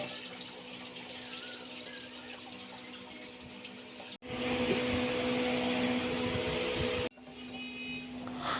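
Half-boiled spaghetti is cooled under a running kitchen tap, a steady broadband rush of flowing water that swells louder midway, breaks off briefly twice, and carries on without talk.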